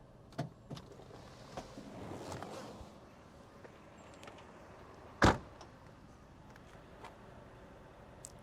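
A light click early on, then a single sharp, close clunk as a 1997 Cadillac Seville SLS's fuel door pops open in a quiet setting.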